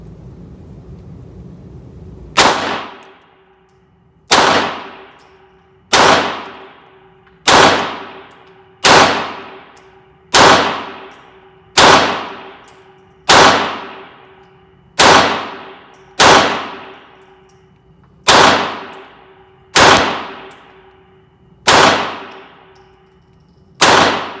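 A Taurus TX22 pistol fires a full magazine at an outdoor range, about fifteen sharp, loud shots spaced evenly roughly a second and a half apart, each crack followed by a short ringing decay, with no talking.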